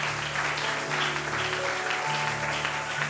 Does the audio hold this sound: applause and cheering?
yes